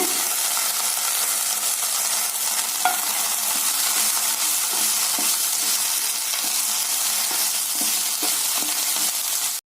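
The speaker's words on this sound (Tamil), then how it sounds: "இது ரெண்டையும் சேர்த்து நல்லா வதக்கிடலாங்க" Drumstick leaves and coriander stems sautéing in oil on a tawa, a loud continuous sizzle with soft scraping stirs and a few light knocks throughout.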